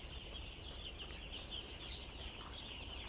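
Grandparent-stock poultry chicks on their first day in a barn, a dense, steady chorus of high cheeping that fills the whole stretch at moderate level, with no voices.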